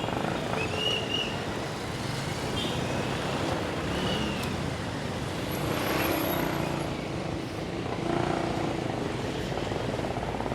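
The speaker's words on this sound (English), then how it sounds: "Traffic as always." Steady city street traffic in Calbayog City, Philippines, a continuous wash of passing cars and motors with occasional engine swells, fairly close and constant throughout.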